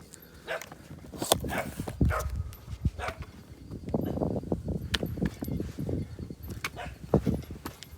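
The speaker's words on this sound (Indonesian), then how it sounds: "Ada anjing guys." A dog on the Mount Batur hiking trail in Bali barks repeatedly, loud and close, in irregular bursts with some yips and whimpers, against outdoor noise.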